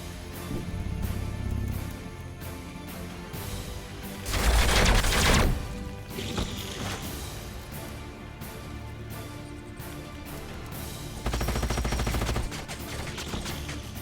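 Gunfire in the sci-fi strategy game Age of Wonders: Planetfall, a few loud rapid bursts of automatic fire standing out against a steady background of music and battle ambience.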